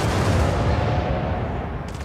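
Incoming gunfire in a video game, a thick, steady roar of rapid shots and booms filling the whole span at high volume with no voices over it.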